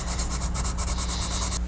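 A Revell 1932 Ford Coupe model body is sanded with sandpaper in quick, even back-and-forth rasping strokes, close and steady, with no talk.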